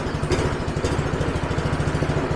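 An old lawnmower engine runs steadily after a pull start, a loud, close, even putter with a fast regular firing rhythm throughout and no talking.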